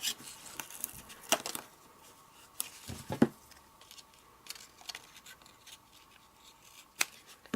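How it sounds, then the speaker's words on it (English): Scissors cutting surplus tape: a few sharp, close snips and clicks scattered over several seconds against a quiet background. "And cut off the surplus."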